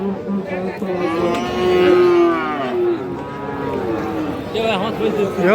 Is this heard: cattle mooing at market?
yes